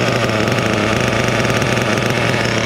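A Kyosho USA-1 nitro RC truck's small glow engine runs steadily at a loud, close idle, giving a constant buzzing drone with no talk over it.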